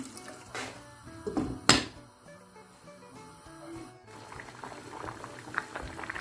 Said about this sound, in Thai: ตอนนี้น้ำแกงของเฮาเดือดดีแล้วนะคะ